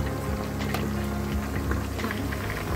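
Chicken lollipops frying in hot oil over a medium flame give a steady, dense crackle and bubbling hiss that runs close and unbroken throughout.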